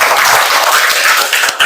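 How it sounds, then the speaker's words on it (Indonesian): Classroom applause for a student group that has just presented, a dense wash of hand claps running steadily through the short moment with no voices over it. "Kita beri tepuk tangan untuk kelompok."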